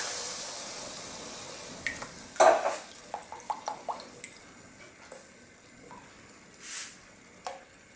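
Coconut milk being stirred in a wok for ginataang mais, with scattered soft clinks and scrapes of a utensil against the pan over a quiet hiss, plus a few light liquid drips.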